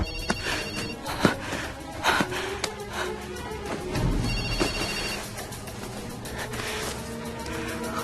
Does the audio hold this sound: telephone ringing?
yes